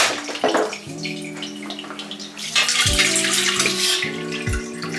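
Liquid from opened cans pours and splashes into a kitchen sink while chili is being made, a steady watery gush with shifting tones, close and alone without talk.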